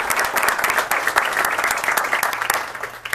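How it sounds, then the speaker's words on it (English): Applause at a school board of education meeting, a brief, dense patter of many hands clapping together, fairly loud and steady throughout. "Let's give her a round of applause."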